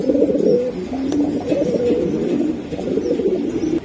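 A Pakistani pigeon coos repeatedly inside a cage, a steady close, low burbling call that carries on without a break and without any talk over it.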